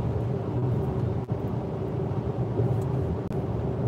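A truck rolls alongside a quiet electric Tesla Model X on the road, heard as a steady low rumble of road and engine noise that holds evenly at moderate volume throughout, with no voices.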